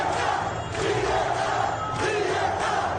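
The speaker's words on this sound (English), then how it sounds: "Listen to what they're shouting in the streets." Street protesters shout in unison, a loud, rhythmic crowd chant rising and falling in repeated bursts with no talk over it.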